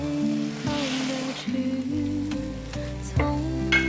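Fish slides back into a pot of tomato, beer and water broth seasoned with salt, sugar, soy and oyster sauce for a sour bamboo-shoot fish dish. It raises a steady hiss and sizzle under background music.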